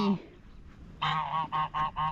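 White geese honking nearby outdoors, one short call followed by a run of four loud, evenly spaced honks.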